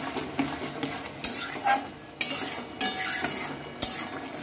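Spices and chili powder being stirred in a sizzling pan for rohu fish curry with peas, a utensil scraping repeatedly in an uneven rhythm over steady frying hiss, close and moderately loud with no talking.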